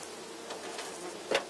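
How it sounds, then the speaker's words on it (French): Honey bees in a hive being smoked during a varroa mite count give a steady, close buzzing hum, with one louder swell of buzzing near the end. "N'hésite pas à bien enfumer pour que les abeilles se relèvent."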